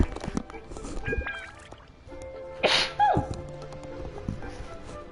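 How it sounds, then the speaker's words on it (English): A person sneezes away from the microphone during a game stream, a short muffled burst standing out over soft background game tones and music. "I really had to sneeze and I didn't want to sneeze directly into the mic"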